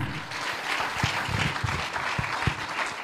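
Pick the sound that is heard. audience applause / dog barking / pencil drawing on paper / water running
audience applause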